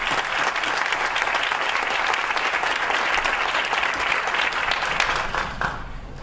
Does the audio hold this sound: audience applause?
yes